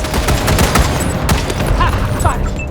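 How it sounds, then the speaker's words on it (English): A giant mechanical four-legged enemy in Wasteland 3 blasts away with a huge gun firing football-sized shells, a dense, loud barrage of rapid overlapping shots and impacts with no break. "this giant mechanical four-legged enemy comes out of nowhere and with a huge gun and starts blasting away at your friends"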